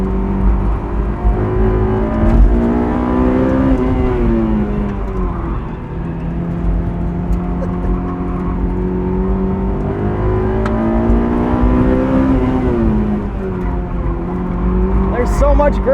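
A 2001 Honda S2000 on a track shakedown, its engine revving up and down through the gears at close range with repeated rising and falling pulls, while people talk over it.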